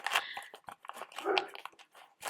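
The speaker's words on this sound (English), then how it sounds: "And the dogs go barking." Several dogs bark in a few quick, close, loud bursts with short gaps between them.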